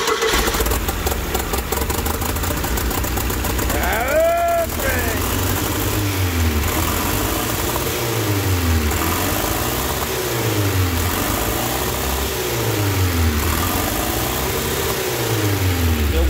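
A Dodge Caravan turbo engine starts and is revved repeatedly in a workshop, a loud, close engine rising and falling in rhythmic surges over an idle, with people talking over it.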